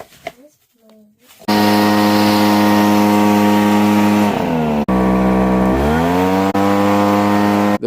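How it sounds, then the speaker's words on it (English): An HTK 63cc gas backpack leaf blower starts up after a brief quiet moment and runs loud and steady close by, its engine pitch dipping and then climbing back as the throttle shifts. "this HTK 63cc gas blower is worth every penny"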